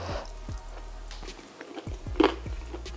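Crunchy vegan pasta with broccoli and cauliflower being chewed up close, a run of soft, moist bites and crunches repeating every half second or so, with one slightly louder crunch near the end and no talking.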